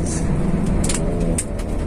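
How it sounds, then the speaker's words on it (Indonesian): A car drives across the Suramadu Bridge between Java and Madura, giving a steady, loud, close road-and-engine roar with tire hiss throughout. "Ada mobil guys"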